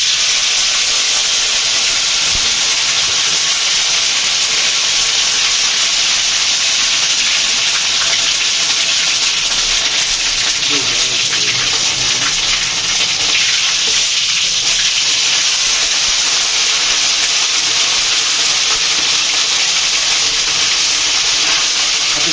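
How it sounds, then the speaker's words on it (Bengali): A loud, continuous sizzling and bubbling from a wok of khichuri on the stove, steady and close, with occasional faint stirring. "কড়াই ফুটতেছে ওই পাশ দিয়ে"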